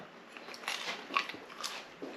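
Crispy crushed roast potatoes being bitten and chewed, a few faint close crunches and crackles spread over a couple of seconds in a quiet room.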